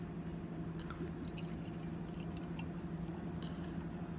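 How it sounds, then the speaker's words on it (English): Home brew beer poured from a bottle into a glass, a quiet steady liquid stream with faint drips and fizz, close, continuous, no talking. "Pouring nice and clear."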